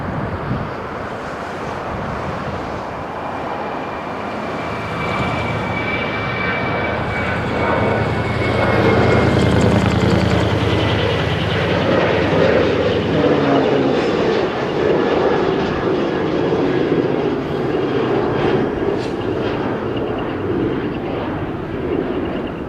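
Aircraft engine roar at Kadena Air Force Base in Okinawa, Japan, a steady loud drone with a whining tone that swells toward the middle and stays strong throughout, with no talking.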